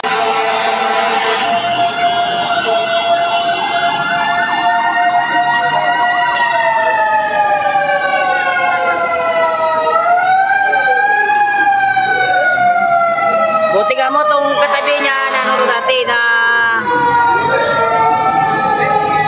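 A fire truck siren wails continuously and loudly, rising and falling in long sweeps, at a building fire on Taft Avenue at the corner of Quirino Avenue in Malate, Manila, with street noise underneath.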